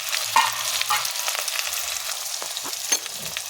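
Chopped onions and curry leaves fry in hot oil for a stir-fried broad bean dish, giving a continuous crackling sizzle broken by a few scraping stirs of a spoon in the pan, close up and with no one speaking.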